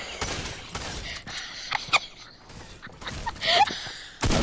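Bursts of gunfire in a Fortnite squads match, sharp cracks and rapid volleys mixed with game noise and footsteps, with a few louder shots standing out.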